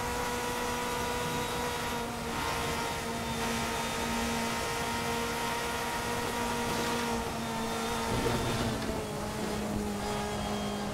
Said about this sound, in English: Running right on that rev limiter.